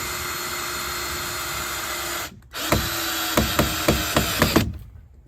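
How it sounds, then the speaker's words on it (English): Power drill driving screws through a hinge into a wooden fence gate, a steady high whine that cuts out, then restarts with a run of short rhythmic bursts as the screw seats. "I'm gonna start installing here first screws"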